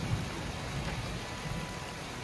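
Steady, dense warm rain in Florida hissing evenly with no pauses, close by and fairly soft, with a low rumbling undertone.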